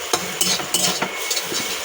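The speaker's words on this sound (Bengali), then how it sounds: "এটা আমি আবারও ভালো করে কষাতে থাকবো।" A spatula scrapes and stirs food around a karai over a low sizzle, with repeated short clinking strokes at a steady rhythm, close and fairly loud.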